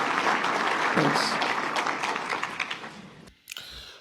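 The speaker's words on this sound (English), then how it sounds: "The applause from the crowd is really concerning." A crowd applauds after a political speech about regional banks, steady broad clapping that gradually thins out and ends with a few scattered claps near the close.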